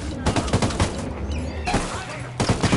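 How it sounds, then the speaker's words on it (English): Gunfire rings out in the video game Ghost Recon Wildlands: a few sharp, loud bursts of shots in quick succession, heard without any talk over them. "Must have heard the gunshot."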